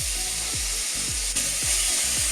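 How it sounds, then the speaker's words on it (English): Onions frying in olive or cooking oil in a pan on a hob, a steady close sizzle with a low rhythmic scraping stroke repeating about every half second, as if stirred. "Give this a stir around, it's getting a nice little sizzle."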